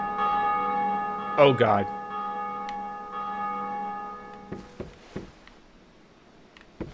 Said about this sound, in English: Are the little guys gonna be really angry with me that I rang their little bell?